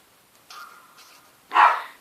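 A dog at home gives a soft low yip followed by one louder, sharp bark at the end, close by in an otherwise quiet room.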